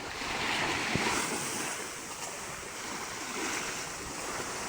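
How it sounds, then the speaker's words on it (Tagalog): Strong wind roars steadily across the microphone with the wash of surf and water underneath, loud and continuous with no voices. "Lumalakas pa lalo ang hangin"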